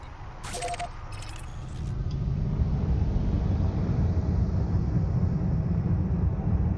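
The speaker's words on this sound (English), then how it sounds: "Frameshift drive charging." Frameshift drive charging in the space game Elite: Dangerous, a few bright electronic chirps at the start, then a low rumbling hum that swells and holds steady.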